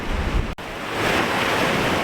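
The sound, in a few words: strong wind and high-tide waves on a beach, Isle of Arran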